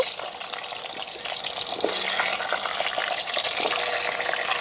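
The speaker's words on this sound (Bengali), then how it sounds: "আর ডুমো ডুমো কেটে রাখা কয়েকটা আলু দিয়ে দিচ্ছি।" Diced potatoes hit hot oil in a pan for a Bengali home recipe, setting off a loud, continuous sizzling hiss that swells and settles with no one speaking.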